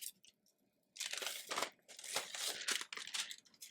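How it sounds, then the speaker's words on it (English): Sheets of parchment paper, used while heat-pressing a Cricut-made shirt, crinkle and crunch in close, quiet bursts after a short near-silent start. "So I added 2 more pieces of parchment paper."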